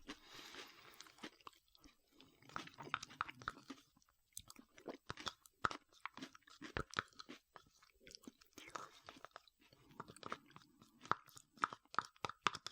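KFC mashed potatoes and gravy eaten right at the microphone: quiet, intermittent wet chewing and mouth sounds with soft clicks, no spoken words.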